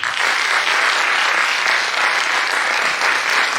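Steady, dense audience applause for ballet performers after a staging of Swarn Mrig, a full house clapping loudly and evenly throughout without pause.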